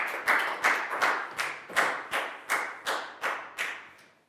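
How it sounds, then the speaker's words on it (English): A Year 4 maths class claps for a pupil in slow, unison beats, about eleven sharp, evenly spaced claps, close and fairly loud, each ringing briefly before the next. "Big round of applause for Net"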